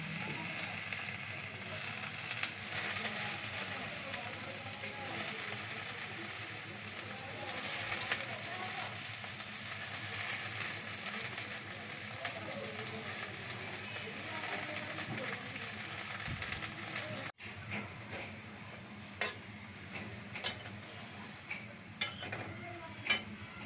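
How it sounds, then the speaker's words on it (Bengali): Chopped onion and green chillies frying in a pan for a sour-greens dish, a steady low sizzle running throughout with occasional stirring scrapes and clicks near the end. "টক শাক রান্না করার জন্য পেঁয়াজ এবং কাঁচামরিচ আমি ভেজে নেব।"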